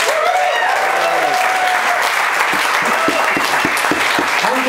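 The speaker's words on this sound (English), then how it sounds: "Feel free to applaud wildly" Loud sustained applause from a jazz club audience at Lula Lounge, dense steady clapping with a tonal musical tail fading at the start.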